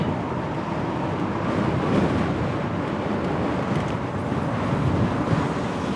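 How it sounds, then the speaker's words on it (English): Steady, loud wind rumble buffeting the microphone while riding an e-bike, a dense low roar that swells slightly and never lets up. "I can hear the wind blowing up against my ears"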